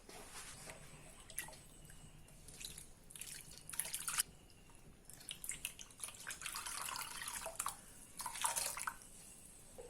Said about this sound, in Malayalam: കുറച്ച് വെള്ളവും കൂടെ കഴുകി ഒഴിക്കണം.